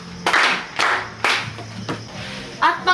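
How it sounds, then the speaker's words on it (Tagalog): Children in a class clap for a classmate named Miss Aligado: a few sharp, separate hand claps in a short, spaced rhythm, with a brief voice between them. "Bigyan ng palakpak si Miss Aligado."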